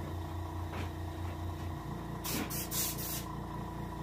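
Spray gun painting the gills of a hybrid striped bass for taxidermy, a steady mechanical hum underneath, then a few short hissing bursts of spray close by.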